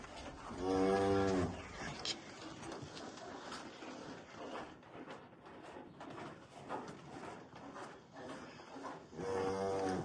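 Swiss-breed dairy cows, including a recently calved one, moo loudly and close, one long low call at the start and another at the end, with a rustling, busy farmyard in between.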